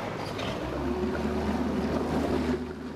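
A motorboat engine runs steadily at sea, a dense, continuous low drone mixed with wind and washing water, loud and unbroken throughout, with no talk.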